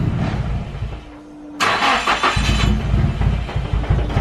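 A Nissan S15 with badly fouled spark plugs cranks with a brief whir, then catches and roars into a rough, uneven run, close and loud with no talk.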